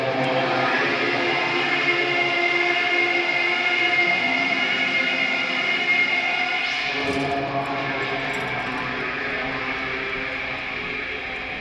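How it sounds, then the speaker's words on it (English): A Caprice Canela motor carriage engine heard outside in the game Disco Elysium, a steady droning rumble with layered tonal hum that holds for several seconds, then shifts and slowly fades, with no talk. "The sound outside. You recognize it. It's a Caprice Canela motor carriage."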